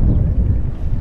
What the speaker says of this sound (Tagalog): Kung naririnig niyo yung hampas ng hangin, napakalamig